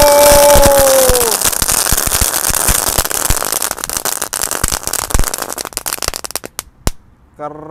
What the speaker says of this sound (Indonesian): Lanjut kita nyalakan, ini ada mercon flaming iye.